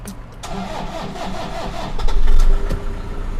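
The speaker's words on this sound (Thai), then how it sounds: "ระบบสตาร์ทยังเป็นแบบใช้ กุญแจเสียบสตาร์ทอยู่นะคะ" A 2008 Toyota Hilux Vigo Cab 2.5 E diesel pickup is started with an ignition key: a brief starter crank catches, then the engine settles into a close, steady rumbling idle with a slight rise in revs.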